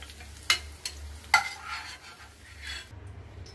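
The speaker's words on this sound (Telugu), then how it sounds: "ఇవి షాలో ఫ్రై చేసుకోవాలి." Sliced okra shallow fries in oil with a soft, low sizzle, broken by two or three sharp clinks of a utensil against the pan, then going quieter at the end.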